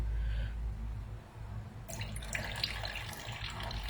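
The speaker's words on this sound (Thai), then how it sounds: "นี่เหมือนจะใส่น้ำเยอะเกินไปเทน้ำออก" Excess water is poured off a mixture of TOA glue and water while making flower stems, a quiet trickle and splash that starts partway through after near silence, close and soft.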